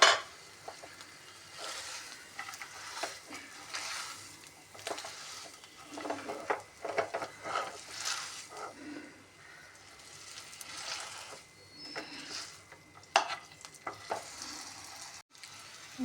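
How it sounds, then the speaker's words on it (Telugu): Moong dal halwa with fresh coconut pieces being stirred in a pan on the stove, giving a soft continuous sizzle with scraping and occasional utensil clinks, close and fairly quiet, no voices. "పచ్చి కొబ్బరి ముక్కలు వేసుకొని బాగా కలుపుకోవాలి"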